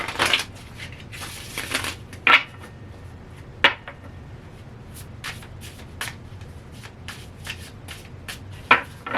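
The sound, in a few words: shuffling tarot cards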